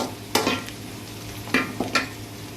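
Onions and curry leaves sizzle quietly in a pan while a spatula makes three distinct scraping strokes, close and brisk, over the low steady frying hiss.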